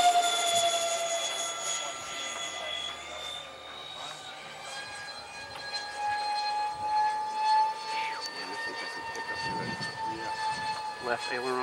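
A radio-controlled FA-18 jet model driven by cyclone motors flies by with a sustained high whining whir that swells and fades slightly as it passes, steady throughout.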